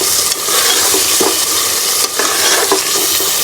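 Beef liver masala with yogurt and green chilies sizzles loudly in a pan. A spoon stirs it now and then, giving occasional scrapes over the constant hiss of frying.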